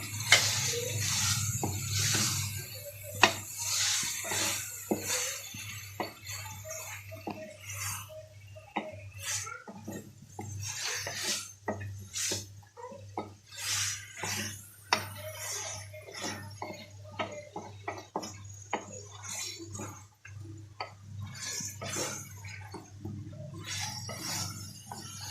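Green beans and potatoes being stirred into masala in a pot, with repeated wet squelching scrapes and clinks of a spoon in an irregular rhythm over a low steady hum, close and moderately loud.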